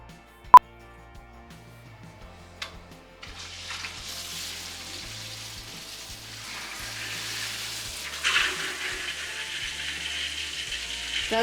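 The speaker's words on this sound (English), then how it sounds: "that noise is what's going into the diaphragm tank" Water rushes into a well pressure diaphragm tank after a filter change, starting as a sharp click and faint clunks, then building into a steady hissing flow that swells louder near the end.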